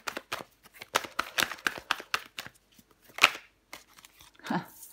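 Tarot cards are shuffled close by in a rapid run of crisp riffling flicks, then go quiet before one last card is drawn with a soft slide.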